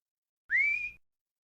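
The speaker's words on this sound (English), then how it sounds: "That ain't a police whistle. That's a sporting whistle." A sporting whistle blown once in the street, a single loud rising shrill note lasting about half a second, alone with no talk.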